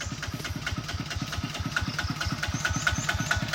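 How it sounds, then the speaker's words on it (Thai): A small single-cylinder walking tractor engine chugs nearby in a fast, even putter, each beat distinct and steady throughout. "นี่ก็รถไถ"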